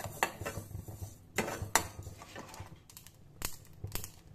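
Mustard, fenugreek and cumin seeds dry roasting in a pan for ginger pickle give off sharp, scattered pops and crackles at close range, irregular and clicky over a low hum.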